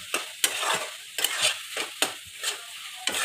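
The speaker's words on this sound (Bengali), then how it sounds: "বড়াগুলো দিয়ে আরও একটু নাড়াচাড়া।" A spoon scrapes through watermelon rind curry with fried fritters in a pan, making about eight sharp, rhythmic strokes over a soft, steady sizzle, close and clear with no voices.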